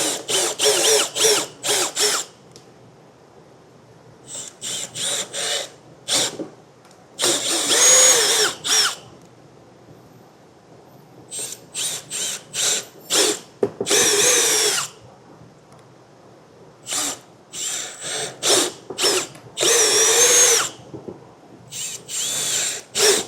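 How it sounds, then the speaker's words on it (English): A power drill bores out the four corners of a template on a 2025 Jeep Wrangler front end for a base plate kit, in repeated short whirring bursts with pauses between them, close and loud. "we'll take a drill bit and drill out the 4 corners of the template"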